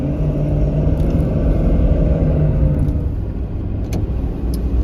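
A 2019 Ford Super Duty XLT pickup with the 6.7 Powerstroke diesel pulling away under power, a loud steady engine rumble heard from inside the cab with continuous road and drivetrain noise.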